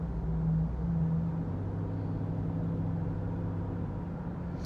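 A loud car passing on the road, heard from inside a souped-up Subaru: a low, steady rumble with a droning engine tone, swelling slightly near the start and holding evenly throughout.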